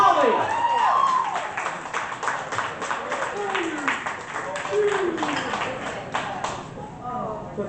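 Poetry slam audience applauding a poet in a room, steady dense clapping from many hands with scattered whoops, loud and close, tapering off toward the end.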